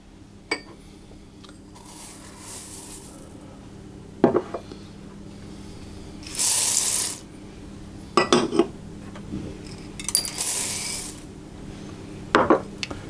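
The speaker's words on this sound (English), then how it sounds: "I'm going to mix it for about another 10 minutes, again on a low speed." Stand mixer on low speed kneading seeded rye bread dough, with intermittent metallic clanks, clicks and scraping of the bowl and hook recurring every couple of seconds over a quiet mechanical hum.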